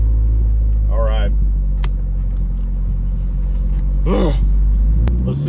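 A turbocharged Chevrolet Cruze tuned with a FuelTech FT550 engine management system drones with a steady, close engine rumble under brief bursts of excited talk.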